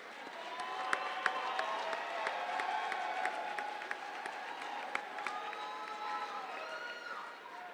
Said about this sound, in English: Let's have a big round of applause for these shipmates.